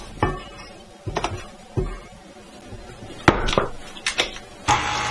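A scraper knocks and scrapes around the sides and bottom of a metal mixer bowl of cookie dough, producing a handful of sharp clanks and brief scrapes at irregular intervals, close and alone.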